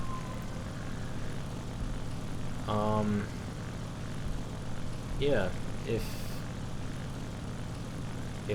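The propeller engine of an La-9 fighter in War Thunder drones steadily throughout, a low continuous hum beneath brief spoken remarks.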